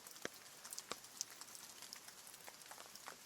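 Rain in a video game scene on a cold evening, a soft, steady patter with scattered sharper drops close by, ending in a sudden louder burst.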